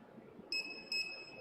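A Steelmate alarm indicator device gives two short, high-pitched electronic beeps in close succession, clear and near against a quiet room background.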